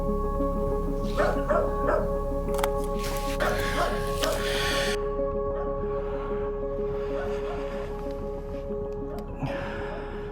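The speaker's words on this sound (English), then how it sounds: "Don't bark, dog." A dog gives a few short barks and yips early on under close conversational speech, then quiets as the outdoor neighborhood background continues.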